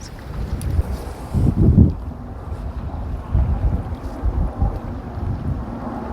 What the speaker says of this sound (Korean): 바람이 너무 많이 불어요, 여기도.